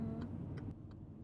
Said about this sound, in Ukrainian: Який показник вмикаємо? Зараз лівий